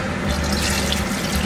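Water from a glass pours into a pot of meat and Arabic spices being cooked for couscous, a steady close splashing stream lasting the whole moment with no talk.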